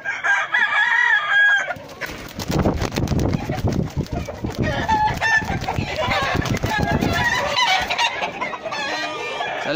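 Fighting-breed roosters crow repeatedly over a dense background of clucking hens, loud and close, with a busy farmyard clamor throughout a cockfighting breeding yard.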